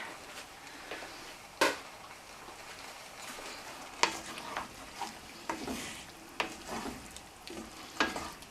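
Sausages frying in a pan for a garden-produce meal: a steady, close sizzle with sharp clacks and scrapes from stirring scattered throughout.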